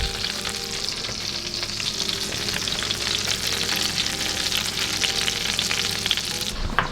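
Walleye fillets frying in butter in a pan over low heat, a loud continuous close-up sizzle with a few stirring scrapes, no voices.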